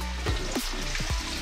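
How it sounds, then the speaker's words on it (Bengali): Potatoes fry in a pan for a poppy-seed dish, a steady close sizzle with a few soft stirring scrapes over it. "এদিকে পোস্তর আলু ভাজা হচ্ছে।"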